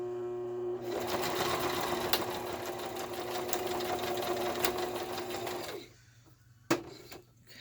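A sewing machine runs steadily for about five seconds as it stitches through journal pages, a close, even mechanical hum and rattle. It then stops, leaving quiet room tone broken by one sharp click.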